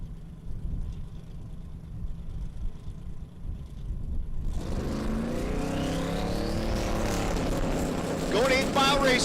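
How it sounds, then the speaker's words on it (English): Drag race cars run side by side at an SRCA dragstrip in Great Bend, Kansas, with a steady engine roar that suddenly swells louder and rises in pitch as they launch and accelerate. "Side by side at 3:30, Travis Martin pulls ahead and gets the win light in the right lane"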